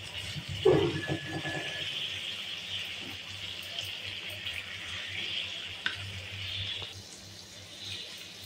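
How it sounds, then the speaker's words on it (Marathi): Kharbi fish shallow-frying over a low flame, a steady soft sizzle running throughout with a brief clink of a utensil near the start. "हे अगदी एकदम मंद आचेवर तळायचे असतात, नाही तर चुरतात, खूप नाजूक असतात ह्या।"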